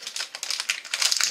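Dense, rapid crinkling and crackling of a plastic biscuit packet being handled up close, with bursts of quick rustles growing busier toward the end.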